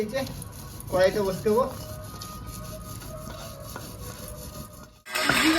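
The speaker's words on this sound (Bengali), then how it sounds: "শুকনো লঙ্কাটা বেটে নেবো সাত আটটা লঙ্কা নিয়ে নিয়েছি আর জিরে নিয়ে নিয়েছি একই সাথে বেটে নেবো" Dried red chillies and cumin seeds being ground together on a traditional grinding stone, rhythmic scraping and rubbing strokes, with a short burst of louder noise at the end.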